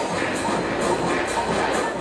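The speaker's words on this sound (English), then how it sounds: "This was the sound of central Tokyo just a few days ago." Dense, continuous crowd murmur and footsteps of a packed street of shoppers in central Tokyo, a broad wash of many overlapping distant voices with no single one standing out.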